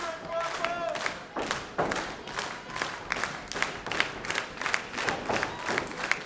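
A pro wrestling crowd claps in steady rhythmic unison to rally behind wrestler Guapo Lupe, the repeated claps loud and close with scattered cheers and some speech mixed in.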